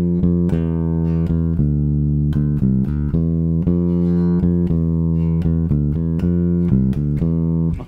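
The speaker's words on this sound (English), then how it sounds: "if we were to just play that bass line again, but just holding all the notes for the full duration" An electric bass guitar plays a bass line with every note held for its full length, a continuous run of deep, sustained plucked notes changing pitch in steady succession, loud and close with no talk.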